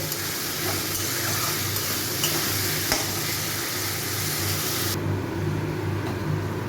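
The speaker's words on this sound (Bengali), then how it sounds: "এই শুটকি মাছটাকেও দিয়ে দিলাম, দিয়ে এগুলো আমি সব জিনিসগুলোকে ভালো করে 5-7 মিনিট ভেজে নেব।" Lote dried fish frying in a pan with other ingredients, producing a steady sizzle with occasional stirring scrapes and a low background hum, fairly faint and continuous.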